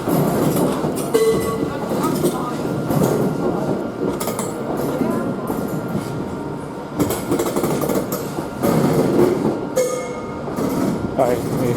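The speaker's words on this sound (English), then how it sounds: "here she comes. New automatic train coming in, 7029, Clun Castle." Steam locomotive 7029 Clun Castle draws into a station, a steady rumble with rail clatter and hissing bursts throughout, while people talk nearby.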